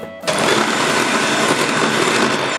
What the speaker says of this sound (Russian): Это все я взбиваю, и потом где-то в середине я добавлю 2 столовых ложки лимонного сока.